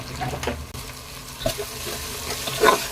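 Vegetables for pulao sautéing in a pan, with a steady sizzle and a few brief scraping stirs up close, no speech.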